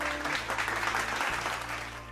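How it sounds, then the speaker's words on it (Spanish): A burst of applause from a small group, steady clapping at moderate volume for about two seconds with a faint tonal background underneath. "pues le doy un aplauso"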